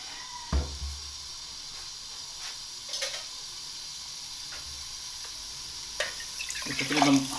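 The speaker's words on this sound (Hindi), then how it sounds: "इसमें तकरीबन 1 गिलास पानी ऐड करूंगा मैं।" Water is poured from a glass into a pot of keema and peas, giving sizzling and hissing with a few clinks and splashes, fairly quiet and building near the end.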